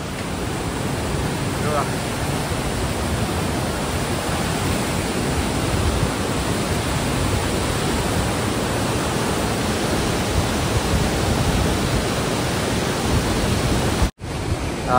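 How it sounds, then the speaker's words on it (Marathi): River water rushes far below in the cold mountains at Kedarnath, a constant broad roar with wind noise that continues unchanged for the whole stretch. "बघा इकडे खालची बघा, पाण्याचा आवाज बघा तुम्ही फक्त"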